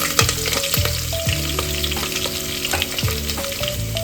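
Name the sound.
mustard seeds, dried chilies, curry leaves, garlic sizzling in oil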